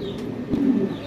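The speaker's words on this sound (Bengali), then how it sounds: "এটা হচ্ছে নর কবুতর" A male pigeon of a fancy breed coos once, a soft low throaty call swelling near the end of the short moment, close by, with no talk.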